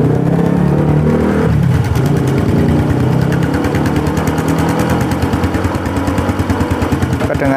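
Honda Grand motorcycle engine idling low around 1500 rpm during a clutch-housing knock check, a loud close steady putter with a fast even pulse throughout.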